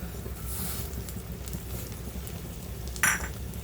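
Garlic, cumin and curry leaves sizzle and crackle steadily in hot oil while a spoon scrapes and clinks against the pan now and then, with a sharper clatter near the end.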